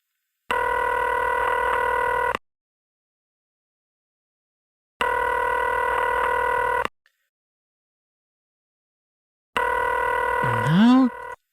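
Telephone tones in a video game: a steady multi-tone ring sounds three times in even bursts separated by silence, and the last burst ends in a rising, warbling electronic sweep.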